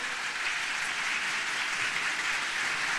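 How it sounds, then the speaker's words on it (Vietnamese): Steady, dense applause from a standing church congregation welcoming a pastor, a continuous wash of clapping from many hands without pauses. "Xin chúng ta đồng đứng lên để vỗ tay chào đón đầy tớ của Chúa."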